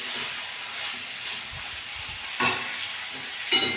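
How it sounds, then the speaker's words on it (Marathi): Sliced onion roasting in a pan with salt added, a soft steady sizzle with two sharp bursts of stirring or scraping near the end, no talk. "कांदा थोडा झाला की त्याला आपण थोडंसं मीठ टाकून घ्यायचं, म्हणजे पटकन भाजतो कांदा."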